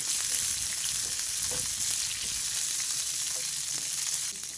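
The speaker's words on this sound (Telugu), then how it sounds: "కొంచెం ఆయిల్ వేస్తా అండి ఉల్లిపాయలు మగ్గడం కోసం" Onions frying in oil in a pan, a steady close sizzle with faint crackles and a few soft stirring ticks running throughout.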